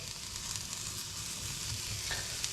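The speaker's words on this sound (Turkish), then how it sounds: "Aşağı yukarı bence dediğim gibi bir dakikada falan kızarması lazım bunun" Lion's mane mushroom pieces fry in a pan with a steady, close sizzle and a faint crackle throughout.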